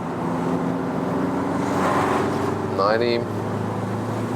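A new VW Beetle with a 110 hp diesel engine accelerates from 75 to 100 km/h, its engine droning steadily with a low hum and road noise, while someone talks over it.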